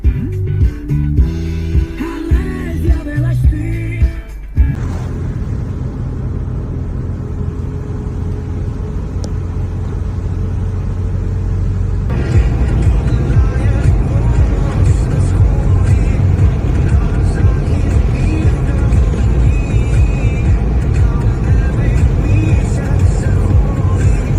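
Steady low engine rumble and road noise from a car driving slowly along a road through Ukraine, continuous for the whole stretch, with a brief burst of other sound at the start and the drone growing slightly louder partway through.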